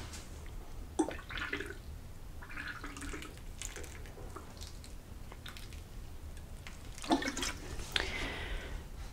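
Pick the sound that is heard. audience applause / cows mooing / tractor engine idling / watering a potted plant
watering a potted plant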